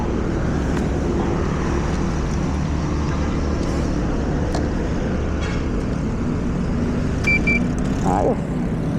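Kymco Xciting VS400 maxiscooter cruising on a highway, steady engine drone and wind rumble with passing traffic, continuous and fairly loud throughout.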